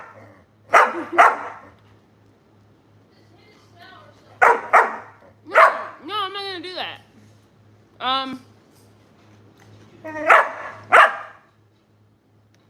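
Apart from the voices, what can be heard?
Doberman dog barking for food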